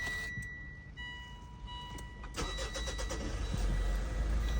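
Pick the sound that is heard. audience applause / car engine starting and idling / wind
car engine starting and idling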